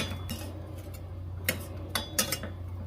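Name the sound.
stirring broccoli in a pot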